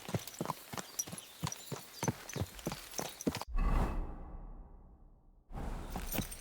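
A horse's hooves clip-clop in a steady walking rhythm in Kingdom Come: Deliverance II, then stop abruptly before a brief whoosh and a stretch of near silence.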